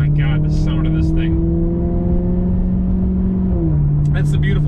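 A sports car exhaust in the Gran Turismo Sport video game holds a loud, steady engine drone that drops in pitch near the end. Brief voices come in at the start and finish.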